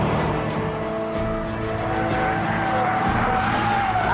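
Chevrolet Camaro SS muscle car powering out of a corner with rising tire squeal over a loud, steady engine roar, the squeal climbing and sustained through the turn.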